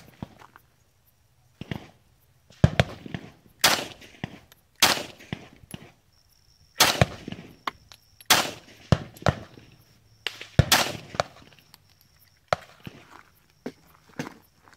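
An H&K USP .45 pistol fired outdoors, a series of sharp, loud, close shots spaced a second or so apart, each with a brief echoing tail, among quieter handling clatter.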